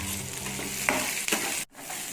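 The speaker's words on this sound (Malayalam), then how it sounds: "പിന്നെ ഒരു 3 അല്ലി വെളുത്തുള്ളി എടുത്തിട്ടുണ്ട്. അത് ചേർന്നിട്ട് നന്നായിരുന്നു വഴറ്റാം." Small onions and three garlic cloves sautéing in oil in a pan for masala dosa filling: a close, steady sizzle with a couple of spoon scrapes, then a brief drop as the stirring pauses.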